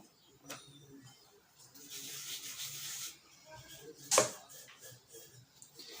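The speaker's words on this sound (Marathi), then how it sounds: "आणि आपण चपाती जशी लाटतो तशी ही पोळी लाटून घ्यायची आहे" A rolling pin rolls out spicy puri dough in soft, scraping strokes against the board, several faint rubbing passes with one sharper, louder knock near the end, fairly close.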